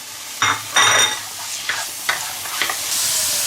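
Scallion, ginger and shiitake mushrooms being stir-fried in a wok, close and loud, with a few sharp scraping strokes of the spatula over a continuous sizzle and no talking.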